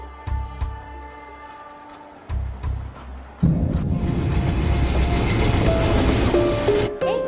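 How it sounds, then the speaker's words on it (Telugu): A train starting to move: low rumbling with clanks, then a louder steady roar of wheels on rails rising and continuing, close by. "ట్రైన్ మూవ్ అవుతుంది"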